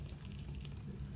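Leftover soup is poured over bowls of salad with cucumber, tomatoes, strawberries and mango, making a faint, steady liquid pour that runs the whole moment.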